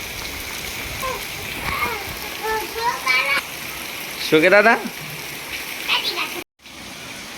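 Steady rain falls in the background as a continuous broadband patter during a first monsoon shower outdoors, while people talk and chat over it with brief pauses.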